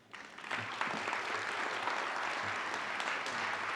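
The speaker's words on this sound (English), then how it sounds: "One more time, a big round of applause for Hall of Famer Adam Thomas." An audience at a Chattahoochee Valley sports Hall of Fame induction ceremony applauds a Hall of Fame inductee, a baseball coach, with sustained clapping that swells in the first second and holds steady throughout.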